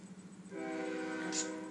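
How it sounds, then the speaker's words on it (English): A train rumbles in the background, starting after a brief quiet and then holding a steady drone with tonal horn-like harmonics and a short bright accent near the end, with no talking over it. "there's a train going on in the background."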